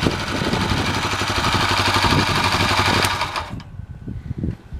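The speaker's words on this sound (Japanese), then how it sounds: "じゃあこれでね、エンジンを止めてみますよ。" A Honda Silk Road motorcycle engine idles steadily and loudly up close, a continuous mechanical chug that cuts off near the end, leaving scattered faint clicks and rattles.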